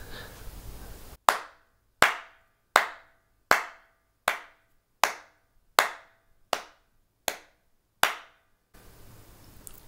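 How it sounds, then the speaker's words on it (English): Ten single hand claps sound one after another at an even pace, each sharp and close with a short decaying ring in a quiet room, used as examples of percussive strokes. "each time I clapped, this program printed out a line"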